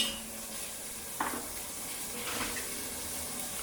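Garlic frying in a pan for lasagna, a quiet steady sizzle with a couple of brief stirring scrapes partway through.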